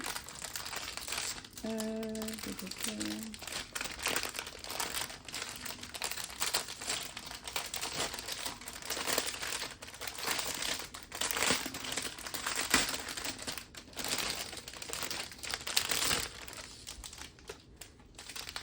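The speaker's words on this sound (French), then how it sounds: "Attention aux oreilles, je vais ouvrir le sachet." A plastic bag of diamond painting beads is opened, giving a steady stretch of close, loud crinkling and rustling plastic that runs throughout with brief tonal blips near the start.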